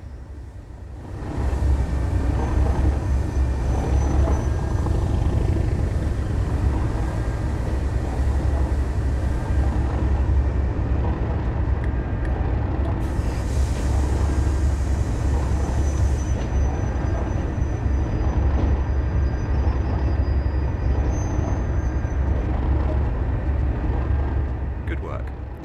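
A Class 37 diesel locomotive in Train Sim World on the Tees Valley Line slows to a stop, a loud steady low engine drone and rail rumble running throughout, with talk over it.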